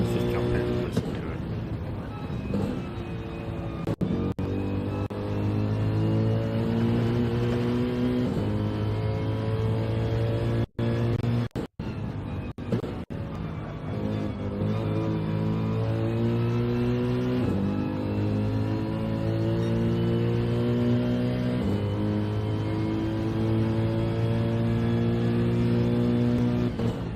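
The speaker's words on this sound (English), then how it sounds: "the one thing they got right here with this Mercedes was the way that this car sounds" Engine of a 2020 Mercedes GT3 Evo revving in a racing video game at Watkins Glen, a loud sustained drone with shifting pitch and brief cuts near the middle, running continuously with a voice talking over it.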